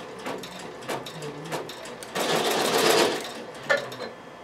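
Avancé sewing machine stitching slowly with the start button held, a steady mechanical whir with repeated needle clatter rising to a louder sustained run in the middle, close and clear without talk.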